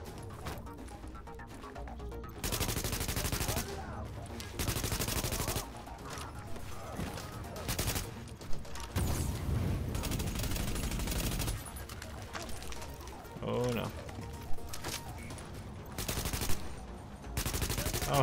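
Gunfire erupts in The Division at the Hudson Refugee Camp: loud bursts of rapid automatic shots alternate with quieter lulls, punctuated by occasional sharp single cracks and mechanical clatter.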